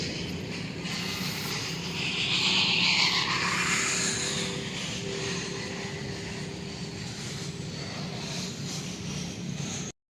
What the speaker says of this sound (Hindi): यहाँ पे ट्रैफिक का शोर आपको भी सुनाई दे रहा है।